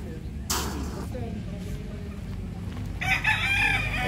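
A Perfection Roundhead gamefowl rooster crows loudly and close by, one long crow near the end, over steady yard noise and a brief voice.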